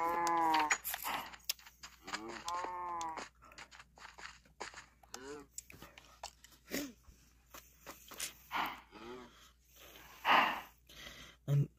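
Cows lowing in a Minecraft farm game: several drawn-out moos spaced irregularly, clear and fairly close, with short snorts and footstep-like sounds between them.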